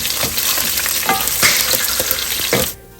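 Dried red chilies, curry leaves, green chili and garlic crackle loudly in hot oil, a dense close sizzle with scattered pops and stirring scrapes, cutting off abruptly near the end.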